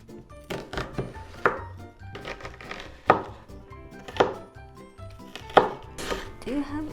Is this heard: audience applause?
no